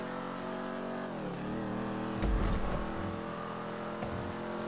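A car engine in the video game GTA Online, droning steadily, then dipping and rising again as it revs up, with a short rough burst partway through; no talking.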